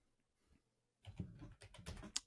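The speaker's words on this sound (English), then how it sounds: "that felt like very quick typing from you" Quick, rapid typing on a computer keyboard during a quiz: a dense burst of close, clattering keystrokes after a brief quiet start, with no talking.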